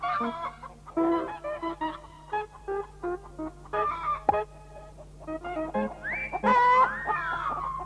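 Chickens cluck in a garden, a close run of short, uneven calls with a brief higher squawk near the end and no talk.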